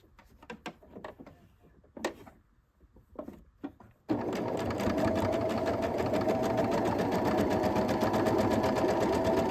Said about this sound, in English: And then I'm just going to sew that side together.